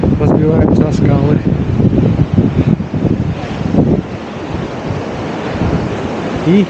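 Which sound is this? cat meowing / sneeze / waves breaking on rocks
waves breaking on rocks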